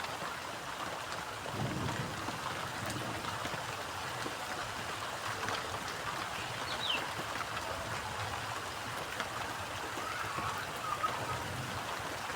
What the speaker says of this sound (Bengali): পায়ে কিন্তু বৃষ্টি পড়ছে টপাস টপাস করে